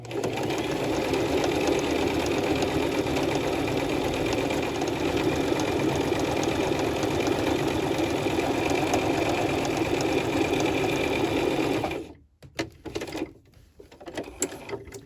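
A sewing machine runs steadily while stitching a fabric face mask, a loud, continuous close-up whir for about twelve seconds that then cuts off, leaving a few faint handling noises. No one speaks.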